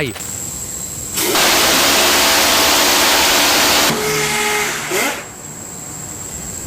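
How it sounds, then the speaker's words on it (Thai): A Phalanx CIWS close-in weapon system firing from a warship, a loud continuous roaring burst of about three seconds, then a shorter buzzing burst after a brief drop. "Phalanx CIWS ป้อมปืนสังหารความเร็วเหนือแสง"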